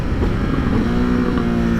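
A Ducati Desert X motorcycle runs steadily with a loud, droning engine note close by, its pitch holding and then settling into a smooth tone as the auto-blipper shifts gears.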